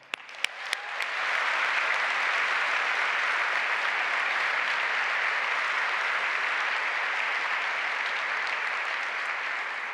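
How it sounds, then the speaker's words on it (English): Sustained applause from a keynote audience at a workplace summit, dense clapping swelling within the first second and holding steady and loud throughout, with a few sharp individual claps at the start. "give yourself and each other a round of applause"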